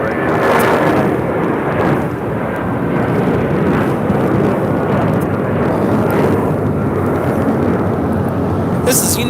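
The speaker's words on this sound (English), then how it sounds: "This is United Airlines 1552 taking off to Newark on a 757-200" A United Airlines Boeing 757-200 takes off from Los Angeles International Airport for Newark, a loud continuous rumbling jet roar holding steady close by, with a voice talking over it.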